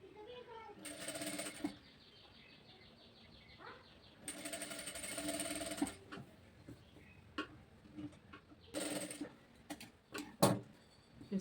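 A sewing machine stitches blouse fabric for a princess-cut blouse in several separate bursts of a few seconds each, moderately loud, with quieter handling clicks and taps between runs.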